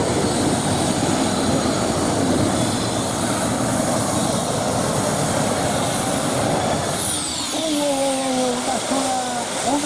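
A pulling tractor's engine, normally gas-fed but run on pure methanol, roars loudly and continuously at a tractor pulling event in Bernay, then its pitch shifts and drops near the end as the run winds down, with crowd noise beneath.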